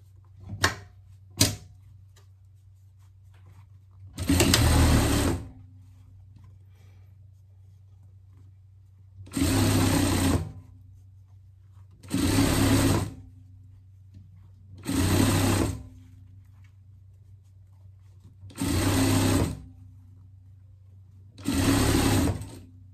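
A sewing machine bastes the hood of a pet hoodie in six separate bursts of steady, fast stitching, each lasting about a second. Quiet pauses fall between the bursts, and a couple of sharp clicks come first.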